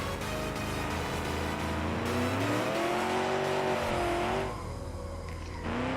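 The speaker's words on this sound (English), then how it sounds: "Some big oversteer moments once again. Lots of wheel spin." A car in BeamNG.Drive spins its wheels and swings into oversteer. The loud engine revs rise and fall as the tires squeal and skid, with no voices.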